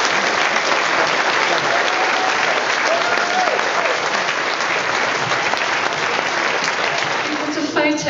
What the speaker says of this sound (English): So can we just begin by giving them a massive round of applause?